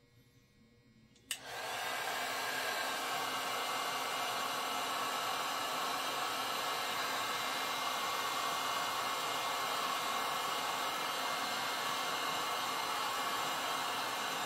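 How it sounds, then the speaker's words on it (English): A heat gun blasts steadily while shrinking shrink wrap on an FMS Futura V3 80mm RC jet model, a loud continuous hissing roar that switches on after a brief quiet moment and holds unbroken to the end. "it's going to be kind of loud because of the heat gun, but watch the shrink wrap"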